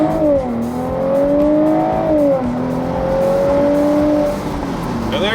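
A Mercedes car at full throttle from a standing start, engine note climbing steadily through two upshifts, loud and close from inside the cabin, with no talk.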